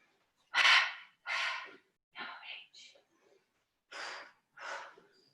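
Audible breaths during a Pilates workout: a handful of close, airy inhales and exhales spaced about a second apart, with brief pauses between them and no other sound behind.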